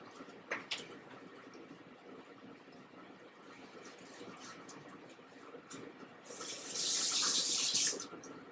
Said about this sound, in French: Donc, je vais rincer la cuillère.